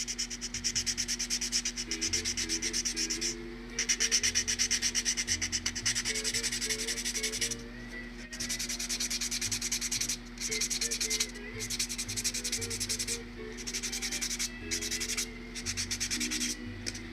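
A buffing block files fingernails in preparation for dip powder, producing loud, close rhythmic scratchy strokes in repeated bursts with brief gaps between passes, no voices.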